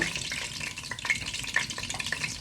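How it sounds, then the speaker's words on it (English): Chicken gizzard frying in very hot oil, a continuous soft crackle and sizzle with scattered brighter spits, fairly quiet and close, no voices. "I'm not going to fry this chicken gizzard so long."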